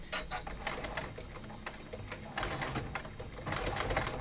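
Sewing machine running a straight stitch at 2.5 mm length during an embroidery class, a steady close rapid mechanical whirr and clatter that gets louder partway through, with faint talk underneath.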